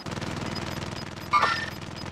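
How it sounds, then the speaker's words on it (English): Automatic sentry gun in a video game firing a steady, rapid stream of rounds at mid distance, with a sharper burst partway through, over continuous game background noise. "Yeah, it's a sentry gun!"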